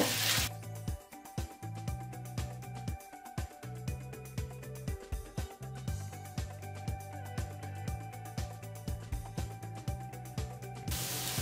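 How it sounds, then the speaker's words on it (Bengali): Dried chela fish stir-fried with onion and garlic in a pan for a chororri, a steady sizzle and hiss under repeated scraping strokes of a spatula, close and continuous. "শুটকি দিয়ে শুটকিটা পেঁয়াজ রসুনের সাথে 2-3 মিনিট নেড়ে চেড়ে নিব।"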